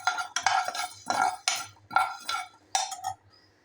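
Coriander seeds dry-roasting in a hot pan, heard as a series of sharp metallic scrapes and clinks from stirring, about seven distinct strokes in an irregular rhythm, close and clear with no talk.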